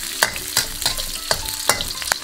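Scallion, ginger and garlic stir-fried in rendered pork fat in a wok, a steady close sizzle broken by several loud scraping strokes of the spatula at irregular intervals.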